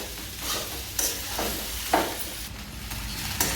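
Green chili thecha with cumin and curry leaves stirred in a hot pan: steady sizzling frying with several sharp spoon-scraping strokes against the pan, close and clear, no voices.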